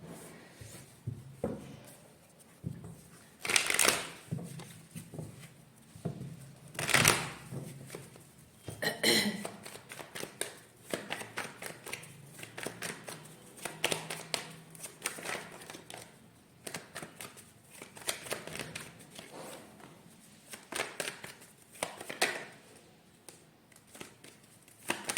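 Tarot cards being shuffled by hand in a quiet room, soft repeated riffling bursts and taps spread irregularly across the stretch, close and fairly faint with a cough-like sound among them.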